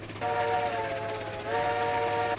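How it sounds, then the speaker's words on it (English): Steam locomotive whistle in a railroad video game, two sustained chime-like blasts, the second following after a short dip, loud and close with no talk over it. "Yeah, right, I forgot about how horrible the whistle now sounds."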